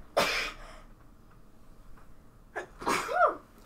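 Two sharp sneezes, the first near the start and a second, louder double burst toward the end, close to the mic during a Magic: The Gathering card game, with a quiet room between them.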